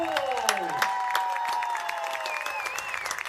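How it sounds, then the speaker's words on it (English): A football crowd at a Ripon College game against Lawrence University applauds for Rick Coles, a continuous roar of clapping and cheering with an announcer's voice over it. "Please give a round of applause for one of the best ambassadors of Ripon College"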